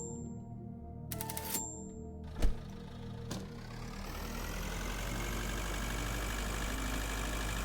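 A small vehicle engine idles in the space survival game Breathedge, first preceded by a few sharp clicks and a knock, then settling into a continuous, fairly loud mechanical rumble to the end.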